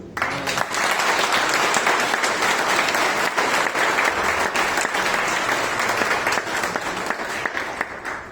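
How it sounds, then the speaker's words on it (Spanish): A church congregation applauds during a fifth anniversary service: dense, steady clapping from many hands that stays loud and even for about eight seconds before easing slightly at the close. "Dale un aplauso a Cristo."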